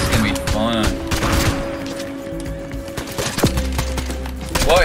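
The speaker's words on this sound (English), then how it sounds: "Oh, the sticky grenade launcher." Sticky grenade launcher in a video game firing off a quick burst of gunfire-like pops, followed by a low sustained rumble, all layered over game music and a voice talking throughout.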